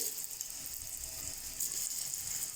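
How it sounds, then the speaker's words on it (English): A taro leaf roll deep frying in hot oil, a soft, even hiss of bubbling oil that holds steady throughout, fairly quiet and close with no voices. "Now when oil is hot, we have to deep fry it."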